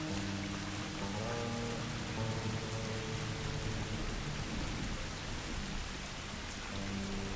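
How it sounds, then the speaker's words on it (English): Heavy rain pours in The Last of Us, a loud, constant hiss of downpour drumming on surfaces, with faint low rumbles and tonal game sounds layered briefly underneath, no voices. "The rain is loud."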